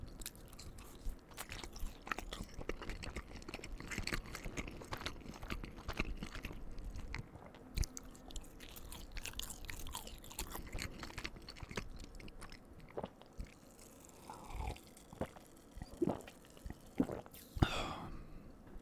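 Taco Bell cheesy roll-ups eaten up close in a quiet room, soft sticky chewing and occasional bites with small mouth clicks and breaths, irregular and faint, no talking.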